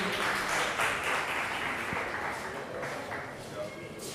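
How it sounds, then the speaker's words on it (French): An audience at a university structured debate championship applauds the debate teams, a fairly quiet, steady spread of clapping from across the hall, with talking in the background. "je vous demanderai de les applaudir ou les encourager"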